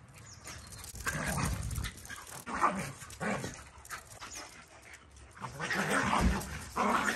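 Dogs at a house make a mix of barks, whimpers and panting, moderately close but not loud, in irregular bursts with breathy snuffling between them.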